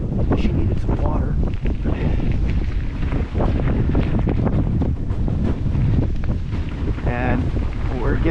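A breeze buffets the microphone outdoors along a rail line, steady gusty wind noise filling the whole stretch, loud and rough, with a voice speaking over it.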